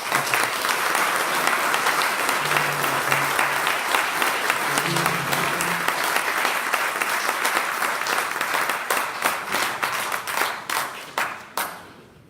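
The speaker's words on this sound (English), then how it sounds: "I give you the opportunity with applause to also thank them" An audience at a political candidate forum in Greenfield applauds to thank supervisors, dense sustained clapping that thins into scattered individual claps before fading out, with faint voices underneath.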